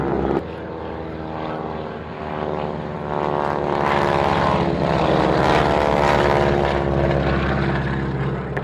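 Eurofighter Typhoon jets line up on runway 09 for departure, a loud, sustained engine roar with strong droning tones that swells and holds steady close by, with no voices over it.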